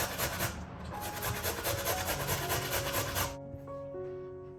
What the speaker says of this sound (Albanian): Më pas marrim një karrotë, të cilën e kam çoruar më parë dhe e grim rende.